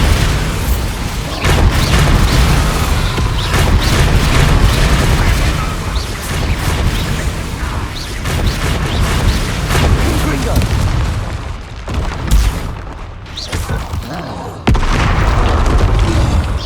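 Booming spell explosions from the Bombarda curse in Hogwarts Legacy, heavy bursts crashing one after another through a loud, continuous battle, with a voice shouting incantations over the blasts.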